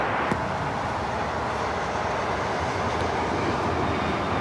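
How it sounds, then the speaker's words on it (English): American Airlines A321neo airliner taking off from LAX, a steady, broadband jet engine roar that stays loud and unbroken throughout, with no voices. "1675 taking off to Phoenix on the A321neo"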